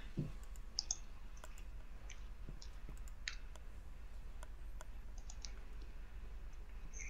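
Computer keyboard clicking during play of the online game Wakfu, a steady run of light, scattered key clicks at close range over a low background hum, with no talking.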